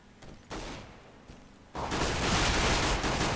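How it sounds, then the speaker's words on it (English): Gunfire in a Counter-Strike match on the Cache map, heard as a short burst of shots followed by sustained rapid automatic fire. "It's Innocent from Connector, who will claim the final shot there and take down the kill"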